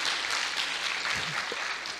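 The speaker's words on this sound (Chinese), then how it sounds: "掌声感谢大 Allen。" Steady applause from a conference audience at a hacker event's closing ceremony, a dense even wash of clapping throughout with no rise or fall.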